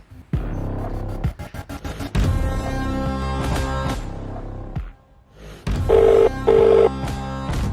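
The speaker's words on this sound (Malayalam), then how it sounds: "സലീമ ഇതെന്താ ഞാൻ വിളിച്ചിട്ട് ഫോൺ എടുക്കാത്ത?" A phone call's ringback tone comes in near the end as two short, loud, steady beeps, following several seconds of busy mixed background sound and a brief near-silent gap.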